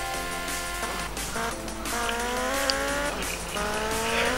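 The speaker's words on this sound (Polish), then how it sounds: "Szybko wsiadaj Tommy na motor" A motorcycle engine revs through a race in the video game GTA Vice City, a steady buzzing drone rising and shifting in pitch through gear changes, loud and continuous with no voices.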